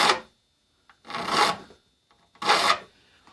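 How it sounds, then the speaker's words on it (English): A handsaw being sharpened by hand with a file, three separate rasping strokes, close and crisp, each about half a second long with short silent gaps between them. "We sharpen all the handsaws by hand."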